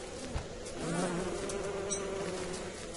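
Bees in the video game Don't Starve buzz in a continuous, fluttering drone that swells slightly and then settles. It plays at moderate loudness with no voices over it.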